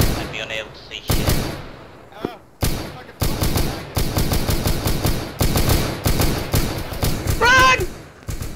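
Rapid bursts of gunfire crack through a Warhammer 40,000 battle against poxwalkers on an island, sharp repeated shots in quick succession punctuated by short gaps, loud and close, with voices shouting in between.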